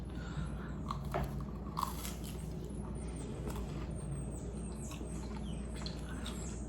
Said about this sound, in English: Let's try some butter toast.